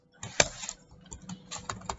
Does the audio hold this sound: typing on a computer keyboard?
yes